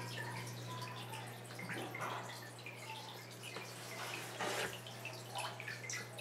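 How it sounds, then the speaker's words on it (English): Soft splashing and trickling water with small bubbling gurgles as a test tube is filled with freshwater aquarium water, fairly quiet over a steady low hum. "just to go into the aquarium and fill the water up to that line"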